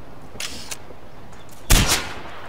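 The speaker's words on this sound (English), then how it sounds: "Silent sniper rifle." A silenced sniper rifle fires in Far Cry 4, giving one sharp, muffled burst that trails off quickly, with a few faint clicks before it.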